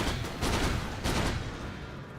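Flak Cannon firing in a Dota 2 match during an esports broadcast, heard as loud, dense bursts of rapid gunfire-like blasts in two surges over a steady noisy background.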